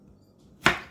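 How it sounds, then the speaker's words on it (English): A knife cuts a zucchini in half in one sharp chop against a board, close and alone after a quiet moment. "And then I'm going to cut them in half."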